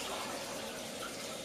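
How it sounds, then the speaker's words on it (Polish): Water pours steadily from a tap into a pot of carrots, a continuous rushing gush with an even level, close and unbroken, with no talking. "Zalewam je wodą"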